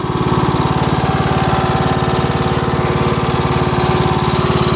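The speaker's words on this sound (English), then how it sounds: "These things do have a bit more noise than your typical Briggs & Stratton engine, simply because it's a Kohler engine with a dual cam design" A Cub Cadet LTX1040 lawn tractor's Kohler dual cam engine runs close and loud, a steady, rough mechanical drone with a fast even pulse and no pauses.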